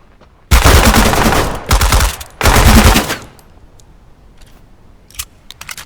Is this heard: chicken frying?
no